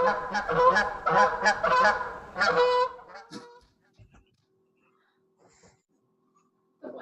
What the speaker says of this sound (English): that flock of Canadian geese descends on us